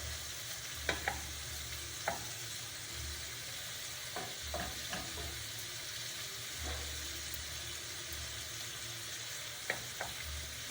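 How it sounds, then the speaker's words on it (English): Shrimp sauté in a skillet with a soft, steady sizzle, broken by a few faint utensil clicks and taps, quiet and close, with no talking. "we are going to let that just quickly saute"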